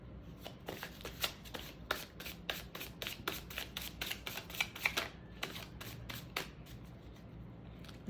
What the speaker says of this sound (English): Let me just shuffle it properly so we can get started with the reading